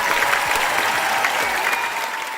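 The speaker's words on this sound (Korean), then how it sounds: "자, 다들 박수!" A crowd applauds steadily, a dense wash of clapping that stays loud and even for a couple of seconds before tapering slightly.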